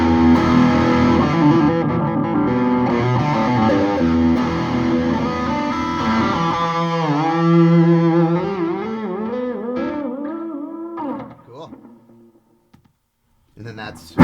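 An electric guitar plays through the crunch channel of a Boss WAZA Tube Amp Expander, giving a driven, sustained chordal tone that decays into near silence near the end, with a click at the close.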